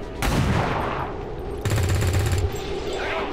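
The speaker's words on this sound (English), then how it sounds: "I am going to snipe your head" Two loud sniper rifle shots in the video game XCOM 2, each a sharp broadband crack with a low booming tail, the second about a second and a half after the first.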